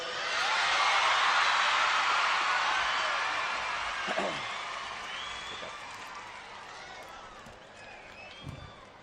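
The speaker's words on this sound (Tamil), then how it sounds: "ஐயாக்கு ஒரு நல்ல கைத்தட்டல் கொடுங்க" Audience at an educational institution's function applauding the chief guest, a loud burst of clapping that swells early and then slowly fades, with a couple of brief knocks near the end.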